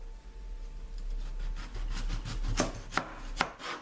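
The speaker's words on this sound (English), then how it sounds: "So you're going to cut your potatoes lengthwise down like that." A knife cuts potatoes lengthwise for homemade french fries, with repeated chopping strokes on a board that grow sharper toward the end and finish in a few distinct, close thuds over a steady low hum.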